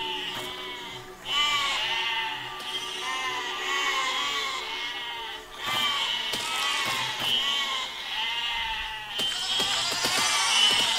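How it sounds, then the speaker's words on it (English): Sheep in the video game Besiege bleat repeatedly, several overlapping wavering calls in close succession over a steady game backdrop, fairly loud and continuous with brief dips between bursts. "And these sheep are really annoying."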